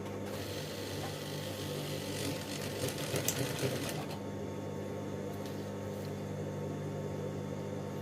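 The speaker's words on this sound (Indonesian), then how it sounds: "baru kita mulai jahit" A sewing machine stitches a wedding dress bustier, humming continuously and close by throughout, with a brief burst of clattering handling noise partway through.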